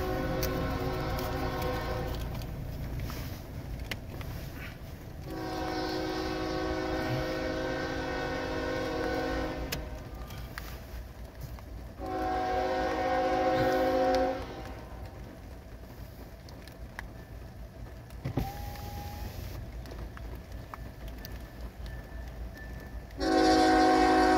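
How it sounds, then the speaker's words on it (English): A southbound CSX mixed manifest freight train rolls past a grade crossing, sounding several long, loud horn blasts with steady rumbling rail noise in between. "He's passing the train on track one."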